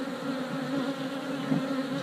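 Honey bees at an open beehive make a steady, close droning buzz that holds a constant pitch throughout, with no voices.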